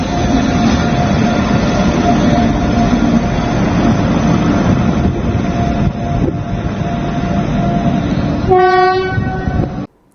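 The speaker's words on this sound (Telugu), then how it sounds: "కేంద్ర రైల్వే మంత్రి అశ్విన్ వైష్ణవ్ ప్రాజెక్ట్ పురోగతిని పేర్కొంటూ ఎక్స్లో ట్రయల్ రన్ వీడియోను షేర్ చేశారు." Train on a railway trial run near the Araku forest region, rumbling loudly and steadily close by, then sounding a sharp burst of horn toots near the end before cutting off.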